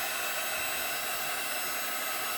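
A Cricut embossing heat gun blows hot air onto a card in a loud, constant, steady rushing whoosh that continues unbroken with no voices.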